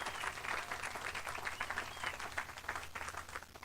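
Faint, distant applause from a summit audience at a clean and fair economy closing plenary, cheering firefighters battling western wildfires; steady clapping that swells slightly and fades.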